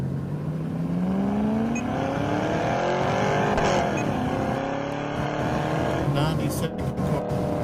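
A car speeds past on a Southern California highway at night, its engine tone rising then falling as it sweeps by close and loud, with continuous road and traffic roar throughout.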